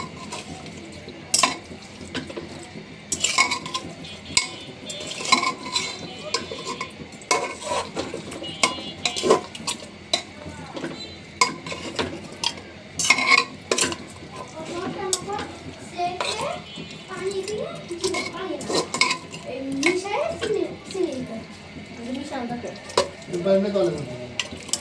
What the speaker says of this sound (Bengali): মশলাটা সুন্দর করে কষিয়ে নেব। তো দিয়ে দিচ্ছি মাংসগুলো। মশলার মাংস খুব সুন্দর করে মিশিয়ে নিব।